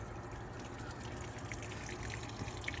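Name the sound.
full-size washing machine filling up with water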